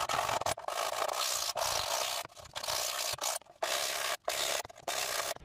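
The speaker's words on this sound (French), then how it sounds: "j'ai passé un coup de ponçage au grain 100" Close sanding of a wooden model aircraft part with 100-grit sandpaper, repeated rough rubbing strokes with brief pauses between them, loud and alone.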